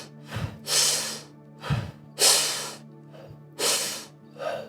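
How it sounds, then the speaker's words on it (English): Quick, forceful pranayama fire breathing through the mouth, four full breath cycles with sharp rushing inhales and exhales in a steady rhythm, close and fairly loud, with no talking. "He does a pranayama, fire breathing."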